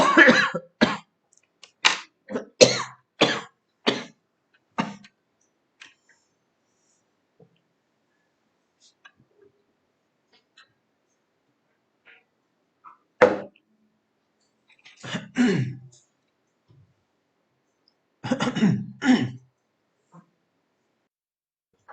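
Repeated harsh coughs come in a rapid cluster of about six at the start, then isolated coughs and short fits return after long quiet gaps, close and loud against silence in a classroom setting.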